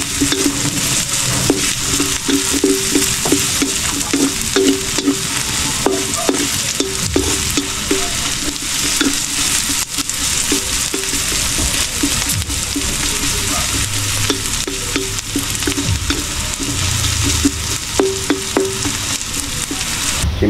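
Onion and garlic sizzle and fry steadily in a pan, with ginger already browning, while a utensil stirs and scrapes through them in irregular clicks, close and continuous throughout.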